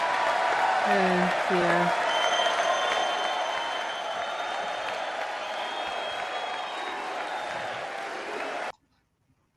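Sustained applause fills a large chamber at the State of the Union, a steady wash of clapping from a big crowd that cuts off abruptly near the end, with a brief voice speaking over it early on.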